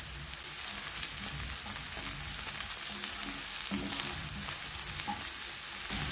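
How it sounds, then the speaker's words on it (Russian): Onion and garlic frying in a pan, a steady soft sizzle with faint stirring throughout and no talking. "Здесь же обжариваем лук до золотистого цвета и потом добавляем чеснок."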